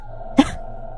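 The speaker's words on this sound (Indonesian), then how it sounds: "batuk-batuk beberapa kali" A woman gives a single short, sharp cough close up against a quiet background hum.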